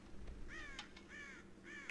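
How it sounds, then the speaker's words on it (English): Crows caw three times in the Red Dead Redemption video game, each harsh call rising out of steady low ambient rumble and spaced evenly about half a second apart, fairly faint and alone without talk. "God damn crows!"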